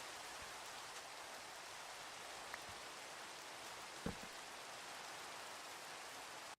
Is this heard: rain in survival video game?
yes